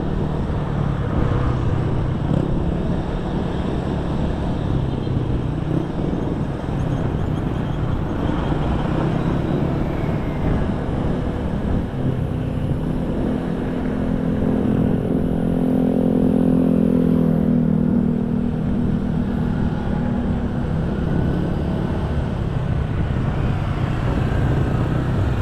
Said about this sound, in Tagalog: Scooter sa gabi.